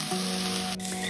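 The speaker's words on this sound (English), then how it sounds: "this sizzling sound always soothes my nerves whenever I'm cooking." Sliced bell peppers and onions sizzle steadily in a pan, a close, continuous hiss with no pauses and no talking.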